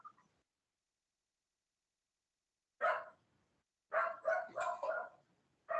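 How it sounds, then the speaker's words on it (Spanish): A small dog, an assistance dog, barks in a quick burst of four or five yips after a single earlier bark, fairly close and clear in an otherwise quiet room. "Me llama mi perrito, mi asistido, Pedrito."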